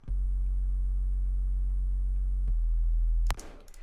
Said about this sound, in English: Let's listen to the bass by itself